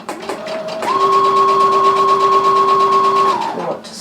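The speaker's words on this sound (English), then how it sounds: "we want to go backwards 3 stitches, and then we want to sew forwards to our stopping position" Sewing machine stitching a cushion, running backwards and forwards in a steady mid-pitched motor hum with a faint rapid stitching patter, close and constant for about three seconds before stopping.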